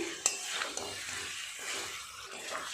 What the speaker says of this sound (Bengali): 10-15 মিনিট সময় নিয়ে খুব ভালোভাবে চিকেনটা আমি কষিয়ে নিয়েছি